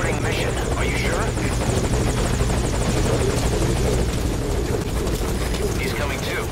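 A helicopter extraction in the video game Metal Gear Solid V: Ground Zeroes, with a loud, steady rotor drone and engine whine filling the whole stretch, a voice briefly audible beneath it.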